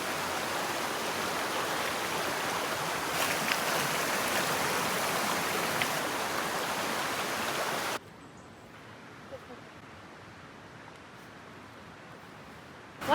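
Rushing mountain creek water fills the air steadily as a hiker wades across, then the flow drops to a quieter, more distant wash for the remaining seconds.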